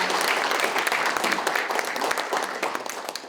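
Audience applause at a regional revitalization forum in Daegu as a dignitary is introduced: dense, steady clapping from a seated crowd, fairly loud and sustained, easing slightly toward the end.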